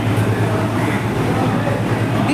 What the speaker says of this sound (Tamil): டீசல் லோக்கம் அந்த பக்கம் வருது.